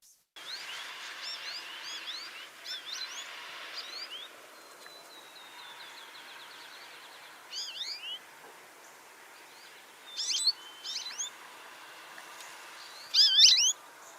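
Short high flight calls from a small, sparrow-sized seed-eating bird come in scattered bursts over quiet background hiss, a few calls clustered near the end.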